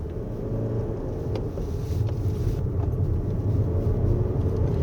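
A 2024 Lexus RX450h+ hybrid SUV pulls away from a stop in normal mode, heard from inside the cabin as a low, quiet rumble that builds gently, with no talking.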